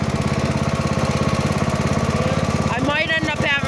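A riding lawn mower engine chugs loudly and close in a fast, steady rhythm while being driven off-road on a wooded trail, with a brief rattle and clatter near the end.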